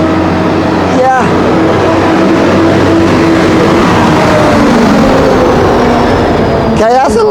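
A large truck drives along a narrow small-town road in Mullens, West Virginia, its engine a loud, steady rumble close by that lasts throughout, with brief rattling bursts near the start and end.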